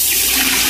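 Water pours into a cooking pot for chicken mandi biryani, a loud, close, continuous rushing splash that fills the whole moment.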